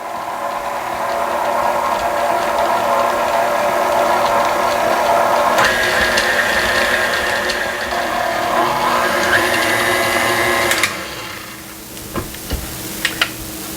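An electric mixer beats cream cheese, white sugar and vanilla into pumpkin pecan cheesecake batter, whirring steadily and loudly for about eleven seconds before cutting off, followed by a few light clatters.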